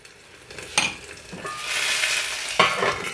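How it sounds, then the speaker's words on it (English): Hollandaise sauce being stirred back together in a pot while gluten-free eggs Benedict are prepared, a steady scraping swish with a couple of sharper clinks, close and alone with no talk. "once you stir it up, it really comes back together"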